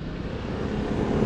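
A Yamaha Ténéré 700 motorcycle engine drones steadily while riding, a low continuous rumble mixed with rushing wind noise, close and even throughout.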